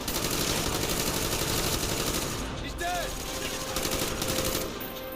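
Sustained rapid automatic gunfire from an extended-magazine weapon in the Call of Duty: Black Ops campaign, a dense continuous rattle of shots filling the whole stretch with only slight dips, game effects layered beneath.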